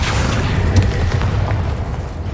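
A Bombarda spell detonates in Hogwarts Legacy as a loud, sustained booming blast with crackling debris, filling the whole moment with dense low rumble and no voices.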